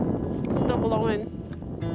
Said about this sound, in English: It's just so very windy, but it's not as strong as before.